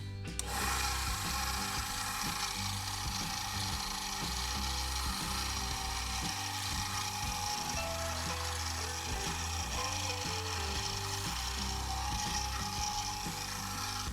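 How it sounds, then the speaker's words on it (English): A number 44 drill bores out the pocket clip on a folding knife frame, giving a continuous close grinding, ratcheting cut that runs steadily throughout with no talk. "So I'll come back with a number 44 and drill it out, drill the clip out."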